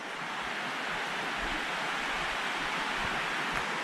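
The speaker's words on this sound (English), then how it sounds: "I like the sound of the babbling brook" Babbling brook running beside a portage trail in Algonquin park during a summer canoe trip, a steady broadband rush of flowing water that stays constant and fairly close throughout, with no voices.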